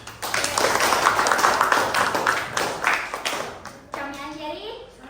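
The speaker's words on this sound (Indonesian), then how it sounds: "tepuk tangan untuk kelompok 4" Students in an Indonesian primary science classroom clap for a presenting group, a lively, uneven round of hands close by, with children's voices mixed in and a single voice rising as the clapping tapers off.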